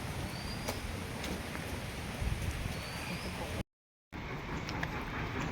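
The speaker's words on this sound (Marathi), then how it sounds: "मस्त पाऊस चालू झालाय" Steady rain pours down at a temple on the first Shravan Monday, a dense even hiss that fills the whole stretch, close and continuous, broken only by a brief gap of silence.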